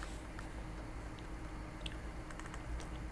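Fingers tap on a computer keyboard, entering a value into 3D modeling software; a short run of quiet, close clicks sounds over faint room hum.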